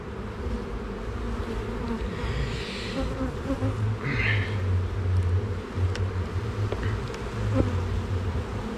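Honeybees swarming around an opened hive during an inspection, a steady, dense buzzing hum, close and continuous, with occasional louder individual bees passing near and light handling noises.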